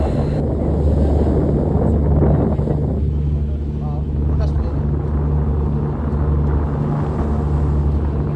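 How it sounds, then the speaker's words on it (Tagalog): Big sea waves crashing under strong wind, a loud continuous roar and surf with heavy wind buffeting on the microphone, and a low engine hum throughout. "Talagang malalaki yung alon."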